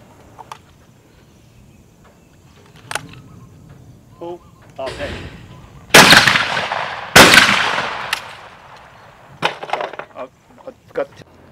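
Shotgun blasts at flying clay targets during an Australian gun club skeet shooting competition: two loud, close reports a second apart near the middle, with sharper cracks and clatter scattered around them outdoors.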